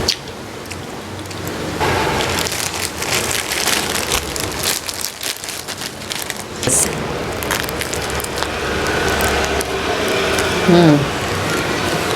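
Steady rain falls in Vietnam, a dense hiss of drops striking surfaces throughout, with scattered louder splashes and some faint voices.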